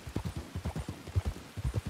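Horse hooves clip-clop steadily in a rapid, rhythmic gait in the RedM western roleplay game, close and clear with no talking over them.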